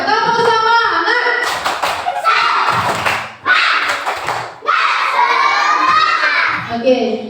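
A class of young children claps a rhythmic spirit cheer together, with sharp clap bursts mixed with their shouted chanting. It is loud and close, and a teacher's voice cuts in at times.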